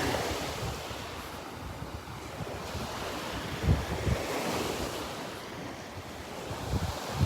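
Gulf of Mexico waves break softly on the beach at Delnor-Wiggins while an east breeze buffets the microphone, a steady surf wash with a few louder low gusts and no voices.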